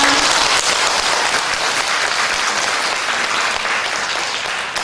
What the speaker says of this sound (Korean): 다짐의 박수를 함께 치시겠습니다